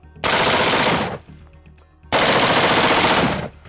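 Two long bursts of rapid fire from a suppressed rifle shooting .277 Fury rounds, each lasting about a second, loud and close, separated by a short pause with faint ringing.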